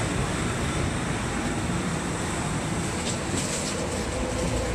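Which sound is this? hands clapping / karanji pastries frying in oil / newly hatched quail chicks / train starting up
train starting up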